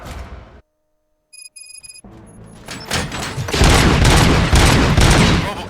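After a brief silence and some electronic beeps, a rapid burst of gunfire erupts, loud and sustained, like a firefight in the video game RoboCop: Rogue City.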